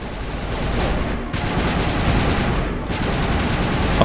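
Sustained automatic gunfire rattles loudly in the Mass Effect video game, a dense continuous burst broken by two brief pauses, with no talk over it.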